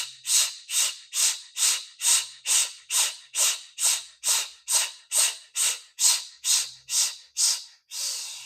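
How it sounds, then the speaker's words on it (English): Forceful active exhales during yoga breath work, fifteen sharp rhythmic breathy puffs evenly spaced about half a second apart, close and loud, ending in a longer softer breath. "Active exhale."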